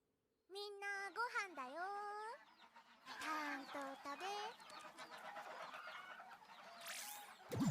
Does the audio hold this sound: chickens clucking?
yes